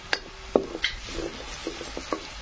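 Coconut and onion paste goes into a pan of frying garlic for a traditional crab curry, giving a soft sizzle with scattered clinks and scrapes of stirring, fairly quiet and close.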